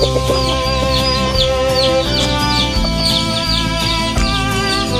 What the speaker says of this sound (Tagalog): Yan po yung bagong manok na tatlo